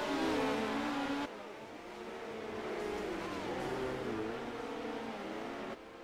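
Midget race cars tearing side by side down the back straight at the Chili Bowl, engines whining and shifting in pitch as they pass, a steady loud roar with crowd-level ambience.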